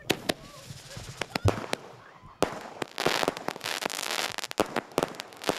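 Fireworks and firecrackers set off during a Territory Day celebration, sharp bangs popping one after another in an irregular barrage, some close and loud, with crackling bursts thickening toward the end.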